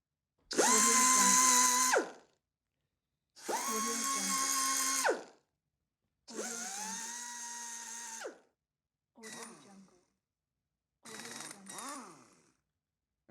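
A pneumatic drill whines in five separate bursts, the first three long and even, the last two shorter and more sputtering, with silence between.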